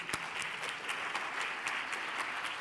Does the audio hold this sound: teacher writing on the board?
no